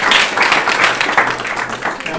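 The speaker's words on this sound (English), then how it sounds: "How about a round of applause for all our presenters?" An audience at a university fire science session on chemical safety and emergency response claps for the presenters, a dense, steady patter of many hands close by, lasting a couple of seconds.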